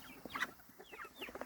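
Young turkeys and chicks in a brooder, fed a mix of game bird and chick starter crumble, give soft clucks and a few rising peeps close by, scattered through a short stretch.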